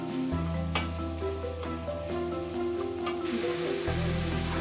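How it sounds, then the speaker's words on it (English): Food sizzles steadily in a hot pan as sliced carrots and mushrooms fry, a continuous hiss with occasional scraping and stirring clatter, accompanied by background music throughout. "mix it while frying."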